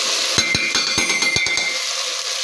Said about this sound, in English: Then you mix well.